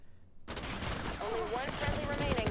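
Gunfire in the Rainbow Six Mobile video game: a burst of rapid shots starting abruptly after a short silence, dense and loud, with a faint game tone rising underneath.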